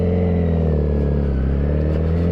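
A Honda CBR1000RR sport bike engine howls at high revs, a loud, dense and steady mechanical roar heard up close without any voices.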